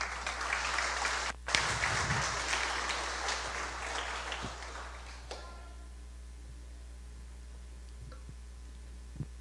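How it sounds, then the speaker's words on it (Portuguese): A church audience applauds during a sermon, with a dense clatter of clapping that breaks off briefly, resumes, then thins out to a few scattered claps over a quiet, humming room. "Vamos aplaudir Jesus?"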